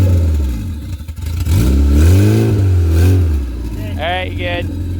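A turbocharged Honda car engine revs up and falls back in a loud, rising and dropping drone, with a short higher-pitched rev burst near the end. People talk over it.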